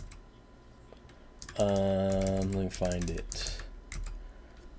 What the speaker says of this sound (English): Sorry if the typing's loud.